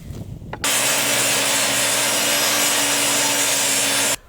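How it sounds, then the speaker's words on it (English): A wood board being cut to length with a saw for a small pet Adirondack chair, a steady harsh rasping cut that starts abruptly after a brief lead-in, runs loud and unbroken for about three and a half seconds, then stops. "now I'm going to cut these down to what was it? 2 5/8 inch."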